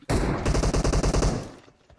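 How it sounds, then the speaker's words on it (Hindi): Rapid DP-28 machine gun fire in PUBG Mobile: a loud, close, continuous burst of about a dozen evenly spaced shots cuts off after roughly one and a half seconds, followed by a fading tail and a few faint clicks. "अब नई डीपी में अगर आप लगातार चलाते हो गोलियां तो गोलियां बिखर जाती हैं बिल्कुल।"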